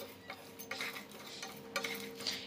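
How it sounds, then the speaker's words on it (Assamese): Spatula stirring and dry-roasting rice in a pan over a medium gas flame, giving a steady close scrape with light clicks and soft rustling of grains, no talking. "হেতা পাতেৰে এতিয়া এনেকৈ লৰাই লৰাই ভাজি থাকিম"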